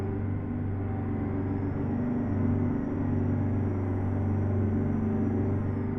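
An International 9800 CabOver truck's diesel engine in American Truck Simulator drones steadily at high revs, a loud, constant low rumble with a faint whine on top, holding even throughout.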